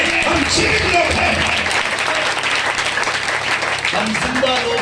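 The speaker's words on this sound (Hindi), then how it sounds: "ऐसा ताली बजा सकते हैं?" Church congregation at a Hindi sermon clapping hands together, a steady dense wash of applause running throughout with a faint voice mixed beneath it.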